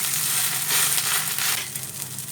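Green chilies and bottle gourd leaves sizzle in hot oil as they are stirred, a loud, steady frying hiss close by.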